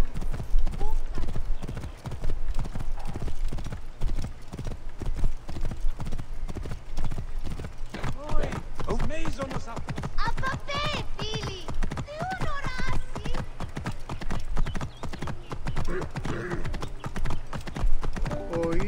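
Rapid, rhythmic hoofbeats of a galloping horse in the video game Assassin's Creed Origins, steady and close, with occasional neighs and voices talking over it.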